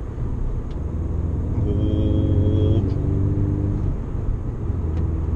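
A 2012-era Audi S3 8V driven gently, its engine and exhaust giving a steady low burble and rumble with a brief rising tone midway, heard from inside the car.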